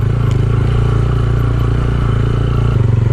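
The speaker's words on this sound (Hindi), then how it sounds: "पहले गियर में हम लोग जा रहे हैं ऊपर।" A motorcycle on a Skardu forest tour climbs a steep off-road track in first gear, its engine droning loud and steady close by with a continuous rumbling pulse.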